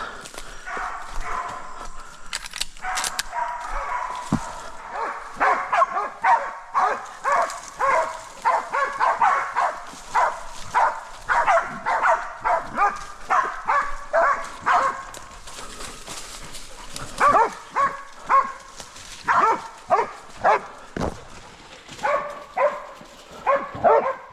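Several hunting dogs bark steadily and excitedly at a boar for a long stretch, a rapid, rhythmic chorus of yelps and barks outdoors at moderate distance in an Australian rainforest.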